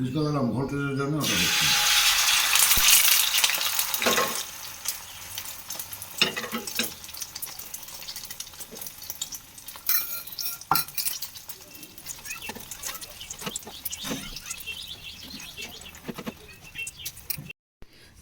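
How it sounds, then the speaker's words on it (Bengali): Eggs with onion being beaten in a bowl, a utensil scraping and clattering in irregular bursts, preceded by a loud sizzle of frying in a pan, all close by in a home kitchen. "ডিম দেখো একটা করে ফেটিয়ে নিচ্ছি পেঁয়াজ দিয়ে"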